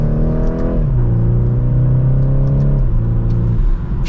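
A 2024 BMW 430i Coupe with its turbo four-cylinder pulls hard from second gear, the engine note climbing loud and close inside the cabin, then dropping briefly at a quick upshift before rising again.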